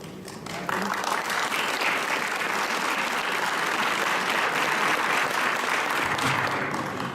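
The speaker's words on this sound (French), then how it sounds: "Je vous remercie pour les applaudissements" Audience in a church hall applauding after a bishop's address at a pastoral launch, a dense, sustained wash of many hands clapping that rises suddenly and holds steady throughout.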